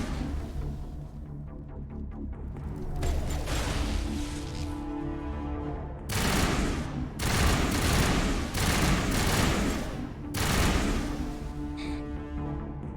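Repeated bursts of gunfire in the Mass Effect 1 video game, several loud rapid volleys in separate strings, with background music tones under them.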